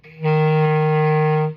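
A single sustained low F on a clarinet, held steady for over a second, with a slightly muffled, stuffy tone from a leaking ring finger.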